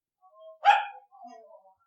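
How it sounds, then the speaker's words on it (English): A dog barks once, loud and close to a microphone, with softer whimpering yips just before and after in a quiet indoor room. "She's barking into the mic."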